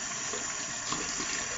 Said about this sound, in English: when I get done shaving, what I do is I turn my water on